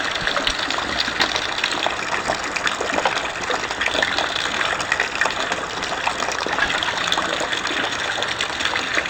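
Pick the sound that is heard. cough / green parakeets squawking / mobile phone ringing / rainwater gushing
rainwater gushing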